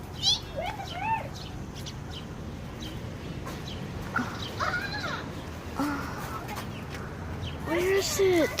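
Birds call in short chirping bursts amid steady outdoor background noise, with several separate calls spread through the clip, some near and some farther off.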